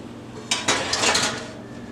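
A prime rib pan clatters into an oven, two sharp metallic knocks followed by a brief scraping rattle of the pan on the rack, close and moderately loud, with no talking.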